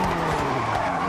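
A car in the Forza racing game drifts across grass, its tires skidding in one steady, loud rasp over a continuous engine drone for about a second.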